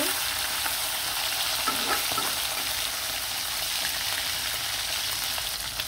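Hilsa fish pieces frying in a pan of oil produce a loud, continuous hissing sizzle close by, with a faint bubbling spatter and no talking.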